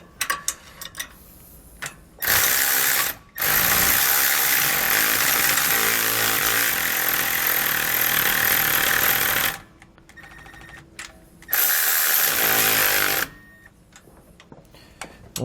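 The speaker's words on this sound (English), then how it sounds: "we're going to grab a 9/16 socket and a 9/16 wrench," A power tool with a 9/16 socket runs in two long loud bursts, buzzing steadily while tightening the top hex bolt on a rear anti-sway bar shock mount on a 2019 Coachmen Mirada motorhome, with short clicks and pauses between.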